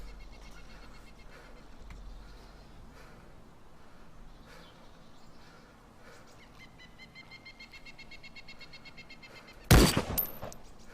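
A single loud FN FAL rifle shot rings out near the end in the video game DayZ, after a quiet outdoor stretch with faint birdsong and ambient hum, followed by a short echoing tail.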